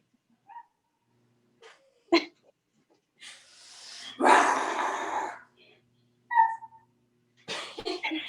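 Several people in a group exercise class take turns imitating a dog with their voices, giving growls and short barks in scattered bursts, one long rough growl in the middle followed by brief yips, close and clear with quiet gaps between.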